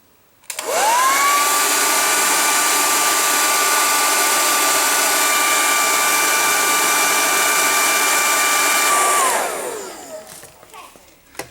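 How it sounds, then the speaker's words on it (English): A hair dryer switches on with a rising whine, blows loudly and steadily for several seconds while warming a car's fender badges, then winds down and stops. "you might want to leave this hairdryer on for a good 5 minutes or so"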